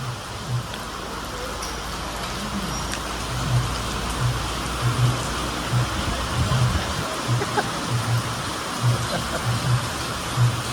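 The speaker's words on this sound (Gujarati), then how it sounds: "વરસાદ શરૂ થઈ ગયો ફૂલ" Steady heavy rain hisses throughout, with faint rhythmic low tapping underneath and occasional soft background sounds.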